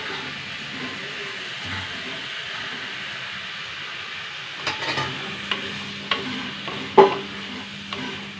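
Potatoes and tomatoes fry in a pan with a steady sizzle, and a spoon stirs them in a run of close scraping knocks toward the end.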